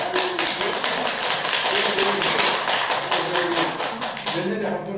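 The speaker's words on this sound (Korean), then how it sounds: "몇 년에 한 번 와가지고 박수 치는데 매주 와서 박수 쳐야지" Audience at a Buddhist temple sermon breaks into dense, steady applause, many hands clapping close and loud for several seconds with some voices mixed in underneath.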